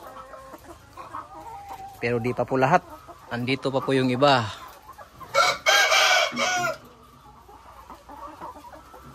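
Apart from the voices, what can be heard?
layer chickens clucking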